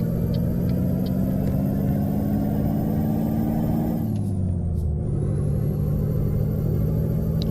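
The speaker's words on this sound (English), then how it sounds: "Wow, I'm grinding every gear." A big rig in American Truck Simulator grinds its gears during a shift, its engine rumble dropping as the clutch is worked, with a hissing air release partway through and a steady drone before and after.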